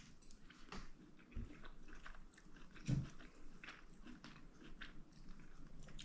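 Quiet, close chewing of a bite of seared salmon with tomato and capers, soft wet mastication sounds with a few distinct crunchy bites standing out against near silence.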